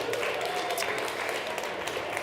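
An audience at a livestreamed winter speaker event claps, a dense continuous patter of many hands held at a steady level for a couple of seconds.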